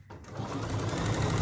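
A sewing machine stipple quilting a quilt, its fast steady needle chatter starting after a brief pause and running continuously, close and clear with no talking.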